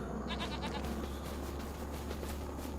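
Goats bleating in the farming video game Farming Simulator 25: a wavering animal bleat rises over a steady, loud ambient hum, followed by continuous farmyard background noise.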